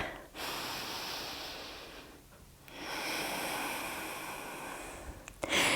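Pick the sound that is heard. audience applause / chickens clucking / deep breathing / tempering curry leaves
deep breathing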